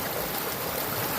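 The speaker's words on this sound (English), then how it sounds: "pretty good water flow" Stream water rushes steadily through a Green Mountain gold trap wing dam on the East Fork, a continuous broadband wash of flowing water, close and fairly loud, with no voices.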